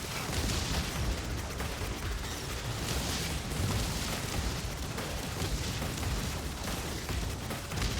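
Explosions and dense combat blasts in the space video game Subverse, a continuous loud broadband roar of detonations and gunfire-like bursts filling the whole stretch, with no voices over it.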